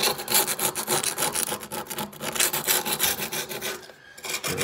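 Old tiles with a grimy film are scrubbed in brisk, rhythmic back-and-forth strokes, a close, rasping sound with a short pause near the end.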